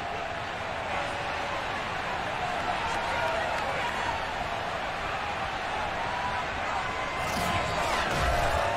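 Steady stadium crowd roar at FedEx Field in a football video game, a continuous dense wash of many voices that swells slightly toward the end, with commentary-like talk blended in.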